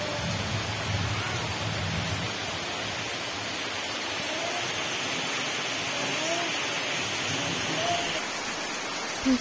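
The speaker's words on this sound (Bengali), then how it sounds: "দেখো কেমন বৃষ্টি হচ্ছে।" Heavy rain falls steadily, with water pouring off a rooftop, a broad continuous wash of hiss and low rumble at an even level throughout, no talking heard.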